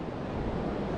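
Surf washes steadily onto the beach at Gokarna in Karnataka, a soft, even, fairly distant roar with no breaks and no one speaking.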